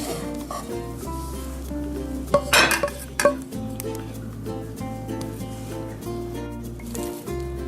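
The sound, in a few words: moving cooked croquette filling from the pan to a plate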